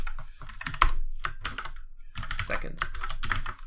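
Quick bursts of close keystrokes on a computer keyboard while code is typed in the Unity game engine, clattering in short rapid runs with brief pauses between them.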